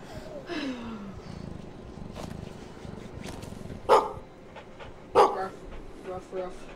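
A dog in the horror video game Maid of Sker gives two short, loud barks a little over a second apart, with talk and soft whines around them.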